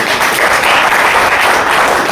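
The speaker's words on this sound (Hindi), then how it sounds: "जो तालियां होनी चाहिए।" A crowd at an Ayurvedic company gathering in Jaunpur breaks into loud, steady applause, a close, dense clatter of clapping that runs unbroken for about two seconds.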